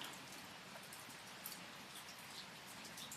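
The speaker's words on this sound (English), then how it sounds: "It is a rainy spring afternoon, or spring day. It's been raining all weekend." Rain falling on a shed roof on a spring day, a steady, dense patter with scattered individual drop taps, heard from underneath and continuous without speech.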